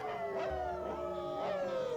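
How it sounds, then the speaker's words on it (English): A chorus of dogs howls and yips in the distance, the Twilight Bark from 101 Dalmatians, with wavering, overlapping howls rising and falling over a faint, steady background. "It's even clearer than Pongo and Perdita's Twilight Bark"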